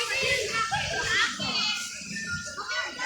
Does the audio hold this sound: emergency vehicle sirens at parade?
no